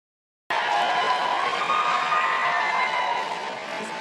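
A loud crowd breaks into sustained applause and cheering after a brief silence, a dense steady wash of clapping and shouts that fades slightly at the end.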